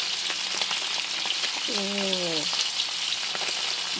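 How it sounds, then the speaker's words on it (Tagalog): Dried fish (bulad) sizzles in hot oil with a steady, dense crackle throughout, and a brief tonal squeak rises over the frying near the middle. "Pagluto sa bulad guys."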